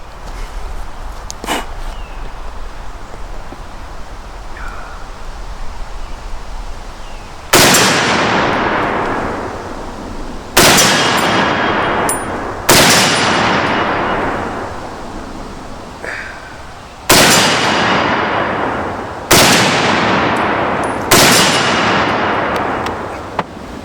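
A Century Arms M1 Garand rifle fires six loud, sharp shots outdoors at uneven intervals of a few seconds. Each crack rings out into a long decaying echo, and there is no talking.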